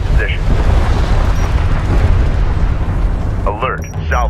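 Fire support strike explosions boom continuously in Homeworld: Deserts of Kharak, a dense, loud rumbling barrage that lasts the whole stretch, with a brief synthetic radio voice chirping near the end.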